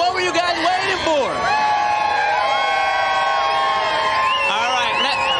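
A crowd at the Fiesta Flambeau pre-party cheers and whoops loudly and continuously, with many overlapping high voices rising and falling in a sustained roar.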